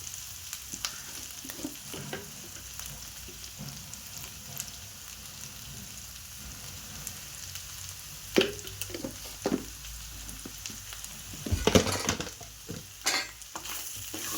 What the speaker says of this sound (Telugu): పచ్చి వాసన పోయేంత వరకు కొద్దిగా ఫ్రై చేసుకున్నాం